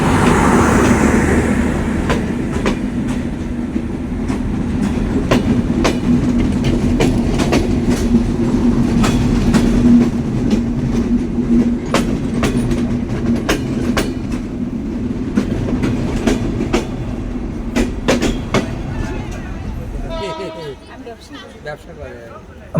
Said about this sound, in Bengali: আমাদের ট্রেনটাও ছেড়ে দিল।